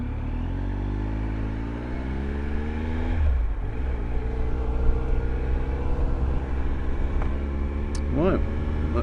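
Riding a Triumph Tiger Adventure XC 1215cc motorcycle, the engine hums steadily up close, its pitch rising smoothly through the revs before levelling into a constant drone, with light wind noise and a faint chirp near the end.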